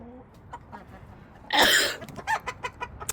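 Brahma chickens in winter, soft scattered clucks and short calls close by, with a sudden burst of flapping or scuffling in the middle and a person's voice faintly nearby.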